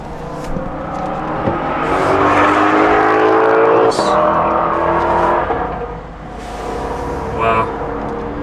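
A Lamborghini Huracán at Speed Vegas gives a loud, sustained engine roar with a droning tone that swells through the middle and eases near the end, as voices talk over it.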